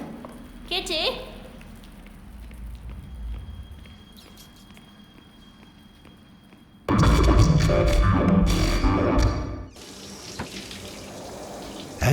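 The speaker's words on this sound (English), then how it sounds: "you hear running water coming from the back" Water running from a tap in a flat in the game Three Minutes To Eight, a steady hiss behind a brief voice, then a loud gushing burst that drops back to a softer flow.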